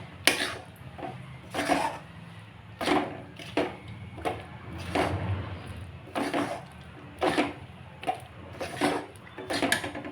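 Raisins being stirred in a pan over very low heat, with quiet, regular scraping and clinking strokes of a utensil against the pan, about one every second.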